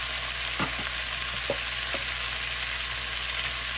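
Sausage, potatoes and minced garlic sauté in a pan for gumbo, a steady, dense sizzling hiss that holds close and even throughout, with a few faint soft clicks.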